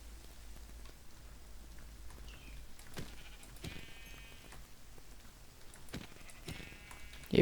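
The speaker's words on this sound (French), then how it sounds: "Oh, il y a des moutons." Sheep in the Ice and Fire video game bleat a few times, brief harmonic calls rising over a steady patter of rain, moderately near with no talking.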